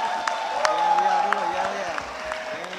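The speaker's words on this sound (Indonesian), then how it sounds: "Tepuk tangan." An audience at a rally of the MKGR mass organisation applauds, a scattered patter of claps and crowd noise running under a voice on a loudspeaker.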